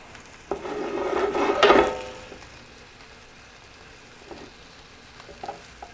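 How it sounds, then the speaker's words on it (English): Pork medallions browning in a hot pan, a brief surge of sizzling and frying with some scraping as the meat goes in, then a quieter low sizzle with a few small clicks. "we're going to brown it, and we're going to pop it on to the cookie sheet"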